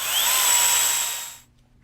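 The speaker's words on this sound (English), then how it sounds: "Again, we use your power drill." A power drill whines steadily at close range for about a second and a half while assembling a chicken cage, then cuts off into near silence.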